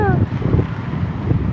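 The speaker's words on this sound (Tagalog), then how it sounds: "Pero ang lakas ng hangin." Strong wind buffets the microphone in a loud, continuous rumble, with a brief whistling tone at the very start.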